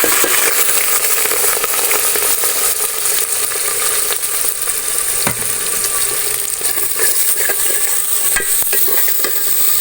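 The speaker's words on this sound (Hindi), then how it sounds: "अब प्याज को मैं फ्राई कर लूँगी।" Chopped onions fry and get stirred in hot cooking oil for restaurant-style chole, giving a steady, loud sizzle with scraping stirs throughout and no talking.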